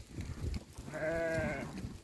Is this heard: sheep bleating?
yes